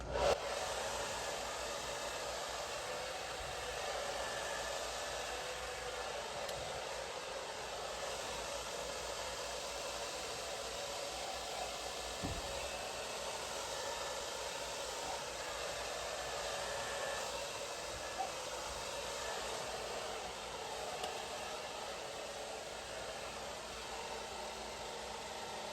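A hair dryer runs steadily on a low, cool setting, giving a constant close airy whoosh that holds unchanged for the whole stretch with no talking.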